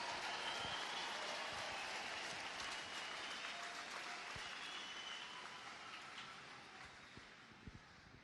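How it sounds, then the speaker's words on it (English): A large crowd at a Navy boot camp graduation at Great Lakes, Illinois, applauds the Navy Band Great Lakes musicians: dense, sustained clapping that stays loud throughout and eases slightly toward the end. "Please join me in one more round of applause of appreciation for the wonderful musicians at"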